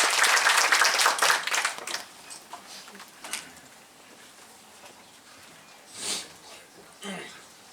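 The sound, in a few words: audience applause at a baseball talk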